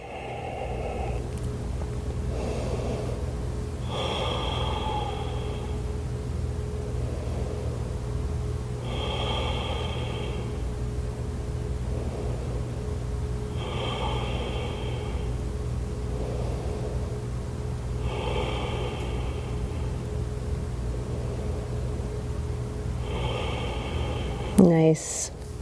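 Five slow, deep breaths during a yoga pose, each an audible airy inhale and exhale at an even pace, heard over a steady hum of background air noise.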